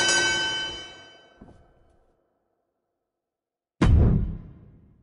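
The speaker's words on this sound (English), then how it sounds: "Ring the bell." A wrestling ring bell from the video game WWE 2K23 clangs twice: a first ring that decays slowly, then after a pause of silence a second sharp strike that rings out and fades.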